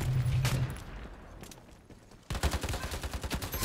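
Rapid AK rifle bursts from the Ironsight video game, a loud run of shots, a short lull, then a dense fast-paced volley of gunfire.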